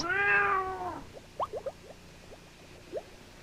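A cat gives one clear, drawn-out meow up close, followed by a few soft, faint chirps and clicks in a quiet room.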